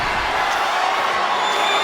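Wrestling video game arena crowd cheering as a wrestler climbs the top rope, heard as a steady, loud wash of roaring voices with no breaks across the short stretch.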